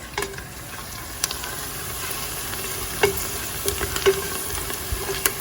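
Potatoes and meat sizzle steadily while browning in a hot pan, with occasional sharp pops and spatters over a continuous frying hiss.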